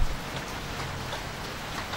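Steady, dense rain pouring down outdoors, a continuous loud hiss of drops hitting surfaces with no pauses.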